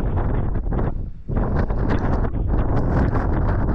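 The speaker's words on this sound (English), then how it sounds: "Oh, that wind's bitter now." Strong, bitter wind blowing across an open hillside at night, roaring loudly into the microphone in continuous buffeting gusts, with one brief lull, and no voices.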